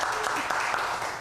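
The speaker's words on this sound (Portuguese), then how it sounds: "Uma salva de palmas para a Sara." Brief burst of congregational applause at a church service, a dense steady patter of many hands clapping together with no clear gaps.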